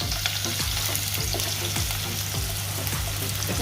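Slit green chillies dropped into hot oil sizzle loudly and steadily, with repeated scraping stirs of a spatula against the pan at a regular pace.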